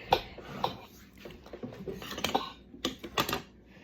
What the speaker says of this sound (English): you just mix it with a regular mixing spoon